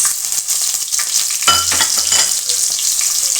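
Cumin, mustard seeds and thinly sliced onions hit hot oil in a pan, making a loud, close, continuous sizzle with brief bursts of crackling as the mixture is stirred.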